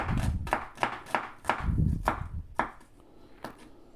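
A knife thinly slices an onion on a cutting board, about eight crisp cuts in a loose rhythm, close up, with no talking.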